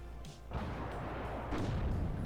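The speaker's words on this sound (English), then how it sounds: "ATGM goes out and takes out" An ATGM missile strikes a Spartan vehicle in the strategy game WARNO, giving a sudden loud boom partway in, then a sustained rumbling blast with a second heavy impact surge near the end, with no voices over it.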